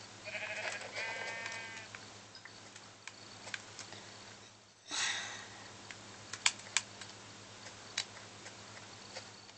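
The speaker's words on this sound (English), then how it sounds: "there's a sheep right next to me actually" A sheep bleats in the Minecraft video game, a short wavering cry near the start, followed by another faint bleat and scattered clicks like keyboard typing over a low hum.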